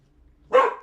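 A single short, sharp dog bark, close and loud, rising out of near silence and trailing off, with no talk over it.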